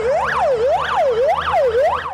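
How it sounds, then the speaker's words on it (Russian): Fire engines arriving at an emergency drill at Kazan Expo sound a loud, close siren that sweeps up and down in a steady wail, repeating about four times with no talk over it. "В это же время прибывает пожарная техника."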